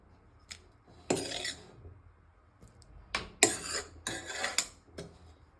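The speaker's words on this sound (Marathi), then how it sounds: "आपण आता ह्या भाज्या मिक्स करून घेऊया" Cooked vegetables with chili flakes mixed in a pan for white sauce pasta: intermittent metallic scrapes and clinks of a spoon against the pan, in uneven close bursts with quiet gaps between.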